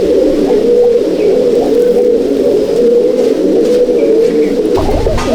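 An Andhra pigeon, a mature bird from a loft in Halisahar, coos while held in a person's hand: a steady, close, throaty rolling coo that runs without pause, ending with a brief rustle.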